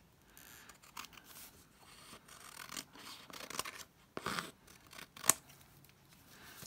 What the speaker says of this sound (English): I could trim it off.